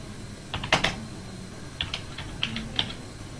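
Keys tapped on a computer keyboard while entering a full name, a sparse run of close, crisp clicks in short bursts with brief pauses between them.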